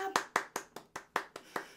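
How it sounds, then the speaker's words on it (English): Hands clap in a quick, even rhythm during a children's music class, about nine crisp claps in under two seconds, close and fairly quiet, with no talking. "clap your hands like this"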